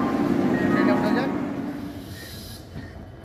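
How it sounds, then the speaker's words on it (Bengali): Standing beside the Barbil Jan Shatabdi Express at a station, a low rumble of the train and station hiss fade gradually, with a faint squeal near the end. "আমরা বারবিল জনশতাব্দী এক্সপ্রেসের কাছে দাঁড়িয়ে রয়েছি। এবারে চলুন তাহলে আমরা ট্রেনে উঠে যাই।"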